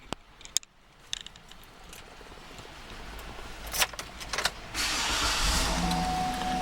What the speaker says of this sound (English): Let's go ahead and turn on the car.